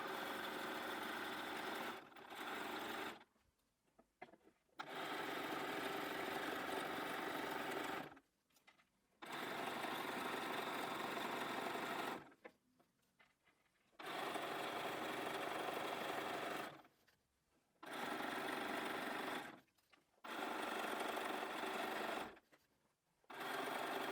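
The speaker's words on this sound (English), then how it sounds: "We're now going to do a zigzag stitch all around the edge of this hat." Sewing machine running a wide zigzag stitch along the edge of a fabric Santa hat, in several steady, loud bursts of a few seconds each, separated by short pauses.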